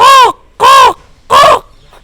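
A voice imitates a black crow's harsh caw, three loud rasping calls evenly spaced with short silent gaps, close and alone.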